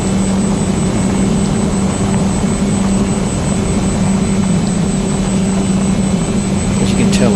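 An FPV aircraft flies in the early morning, its motors making a loud, continuous buzzing whine that holds steady throughout, with rushing air underneath.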